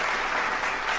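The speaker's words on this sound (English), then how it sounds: "With claps, let me give you claps" A short burst of dense, close clapping fills about a second, steady and fairly loud, with no voice over it.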